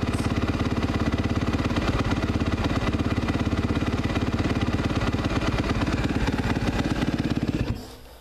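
A 2016 Suzuki RMZ 250 fuel-injected motocross bike engine runs with a loud, close, rapid clattering putter that holds steady for several seconds before cutting off abruptly.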